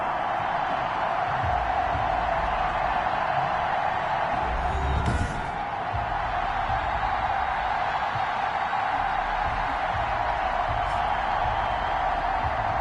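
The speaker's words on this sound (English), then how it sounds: "this crowd is ready to go" Stadium crowd noise from the Madden 21 football video game, Eagles at Washington Football Team season opener: a steady, dense roar of spectators holding at one level throughout, with a brief swell of cheering midway.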